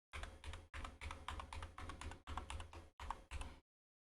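Rapid typing on a new computer keyboard that has been acting up, with steady clattering bursts of keystrokes split by short pauses, close and clear without talk.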